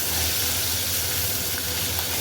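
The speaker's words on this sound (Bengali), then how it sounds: "তেলটা কিন্তু বেশ গরম হয়ে গেছে। এবার মাছগুলো দিয়ে দিলাম।" Small mourala river fish frying in very hot oil, with a loud, steady, close sizzle and hiss that runs without a break.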